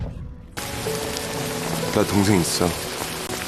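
Steady rain falling outdoors, a dense hiss that starts abruptly and continues throughout, with a voice speaking briefly over it.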